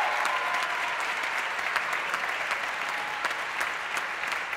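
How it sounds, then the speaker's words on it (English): A concert audience applauds the musicians on stage, a sustained even roar of clapping from a large crowd, moderately loud and steady throughout with no speech over it. "let's give them another round of applause and recognize them"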